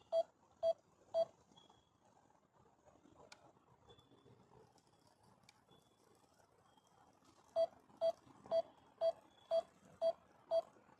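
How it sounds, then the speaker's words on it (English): A DJI Mini 5 Pro drone flying low in a park sounds its obstacle sensor warning: a series of sharp, evenly spaced beeps, three at first, a pause with faint background noise, then a longer run of seven. "And I don't know why it's beeping."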